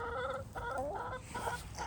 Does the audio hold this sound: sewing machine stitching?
no